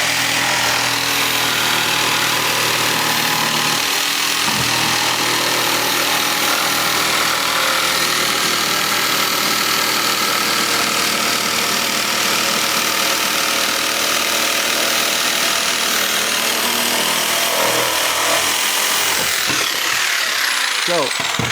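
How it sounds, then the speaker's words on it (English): A jigsaw cutting through material runs loud and close as a continuous harsh, buzzing rasp, holding steady for most of the stretch before winding down near the end. "with the jigsaw, I've cut the bulk of the material out"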